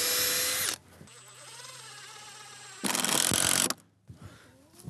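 A power drill whirs in two short bursts, toenailing screws into wood on a chicken coop, with quieter mechanical clicks and hum between them.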